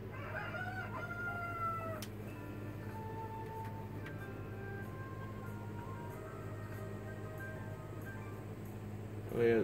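Cuccos, chickens in Zelda Breath of the Wild, crowing and clucking in the game, a few faint calls spread over a quiet ambient bed, with a brief louder thump at the very end.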